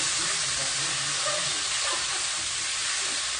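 Zucchini and peppers sauté in a hot pan on a stovetop, giving a loud, continuous close-up sizzle and hiss with no break.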